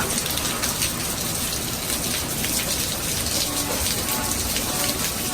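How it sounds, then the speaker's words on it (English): Steady, dense downpour of rain and hail pelting surfaces nearby, a continuous hiss with scattered sharper impacts throughout. "Guys, it's hailing so bad."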